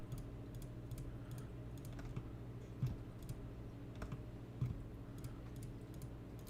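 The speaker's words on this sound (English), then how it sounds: "I'm just going to right click these walls that I don't want" Mouse clicks while selecting walls of a low-poly house model in Blender: sparse, faint, close clicks over a steady low hum, no voice.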